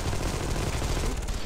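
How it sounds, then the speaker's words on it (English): Dense, continuous gunfire from the video game Armed & Dangerous, a steady barrage of rapid shots filling the whole stretch at close range with no pauses or voices. "we can't hurt those Goliaths with normal gunfire."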